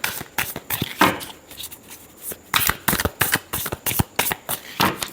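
Tarot cards being shuffled by hand in a series of crisp riffling bursts and soft slaps, close and fairly loud, pausing briefly between rounds during a love reading.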